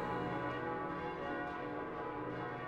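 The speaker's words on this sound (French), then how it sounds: "Mais qu'est-ce que c'est que ces cloches ?" Church bells ring steadily through a cutscene from the video game Koudelka, sustained overlapping tones forming a dense, continuous wash with no voices.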